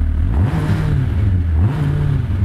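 A motorcycle engine with a sequential gearbox idles with a steady low rumble, then revs up twice in quick swells before settling back, close and loud.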